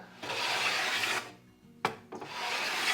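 Hand plane shaving wood while building an acoustic guitar: two long, steady rasping strokes, close and fairly loud, separated by a brief pause with a sharp knock, and no voices.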